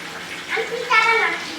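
Water splashed from a mug over a child at bath time, a short splash and pour lasting about a second, with a voice speaking nearby.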